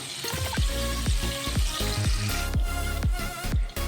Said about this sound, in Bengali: পনিরগুলো দিয়ে একদম হালকা ফ্রাই করে নেব, বেশি লাল লাল করে ভাজবো না।